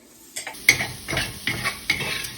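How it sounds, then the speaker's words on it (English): Whole spices frying in a hot pan for curry, a steady sizzle broken by several scraping stirs of a utensil at a close distance, with no voices. "stir it around, and then wait till I get a nice aroma of the spices"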